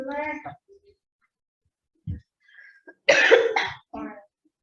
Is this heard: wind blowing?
no